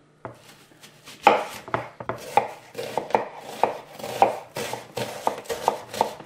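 Onions chopped with a knife on a cutting board, a close series of crisp, uneven knocks, quick runs of strokes with short pauses, and no voices.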